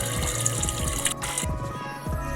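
Tap water running steadily into a homemade aquarium built from an old fridge, a continuous close splashing fill with a brief dip midway.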